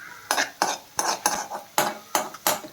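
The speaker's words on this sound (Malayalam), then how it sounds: "അത് നമുക്ക് നന്നായിട്ട് ഒന്ന് ഇളക്കി കൊടുക്കാം" Gobi Manchurian with spring onion whites is stirred in a pan over a low flame, with a spoon striking and scraping the metal in seven or eight brisk, evenly spaced strokes, close and loud over a faint sizzle.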